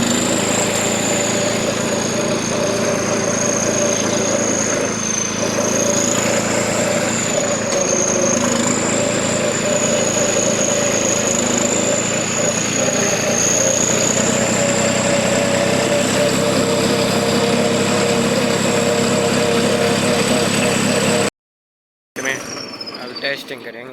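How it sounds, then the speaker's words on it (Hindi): A New Holland 3630 tractor engine runs steadily close by for over twenty seconds, a loud continuous drone with a high turbo whine riding on top. It cuts off briefly near the end and then resumes. "ट्रबो की आवाज़।"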